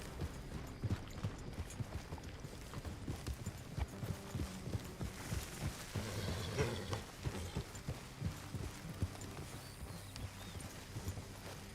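Rhythmic hoofbeats from Red Dead Redemption 2 clatter steadily at a gallop, fairly faint, with a low hum underneath and no talking.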